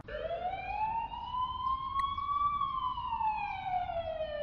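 An ambulance siren in the video game The Coma holds one long wailing tone that slowly rises then falls over several seconds, clear and steady with no speech.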